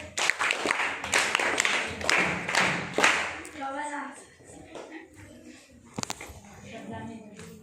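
Audience clapping after a school prayer-song activity, a burst of applause over roughly the first three seconds that then fades into scattered claps, with voices talking underneath.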